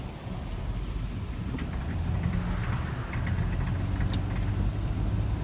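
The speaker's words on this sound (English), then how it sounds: "Almost sounds like when you put a playing card between your bike tire when you're younger, when you turn. It's a little more metal." A worn 17-year-old Toyota runs with a steady, loud engine drone and a fast metallic clatter riding on it, like a playing card flicking in bike spokes, continuous and close throughout.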